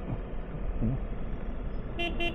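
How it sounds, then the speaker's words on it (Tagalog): Two short car horn honks near the end, sounding over steady road and engine rumble from a Ducati Multistrada V4 motorcycle in Manila traffic. "medyo may dikit yung kanyang busina"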